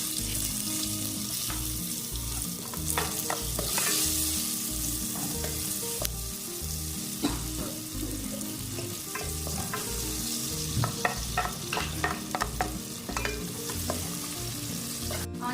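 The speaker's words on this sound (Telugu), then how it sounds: "ఆనియన్స్ లైట్ బ్రౌన్ అయ్యేంత వరకు ఫ్రై చేసుకున్నాం" Onions frying in oil with cumin and whole spices for egg biryani make a continuous, close sizzle, with repeated spatula stirs and taps against the pan throughout and no one talking.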